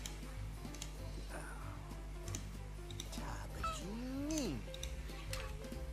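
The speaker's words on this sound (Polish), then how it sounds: "Pobaw się z kotem." A cat meows in The Sims 3 video game, a rising and falling call near the end over steady game music and background sounds.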